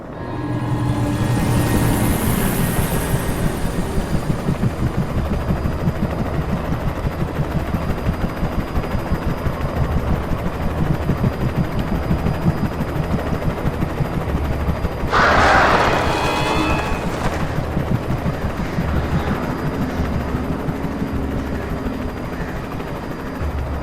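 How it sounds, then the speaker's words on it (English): A helicopter flies in the video game Alan Wake Remastered, its steady mechanical whir filling the scene at constant loudness, with a brief burst of noise partway through. "I knew they were going to bring a helicopter at some point."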